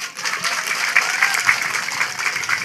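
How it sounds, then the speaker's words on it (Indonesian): Audience applause during a humorous religious lecture, a moderate, steady patter of many hands clapping across the hall without talk. "Kasih tepuk tangan buat Pak Darno."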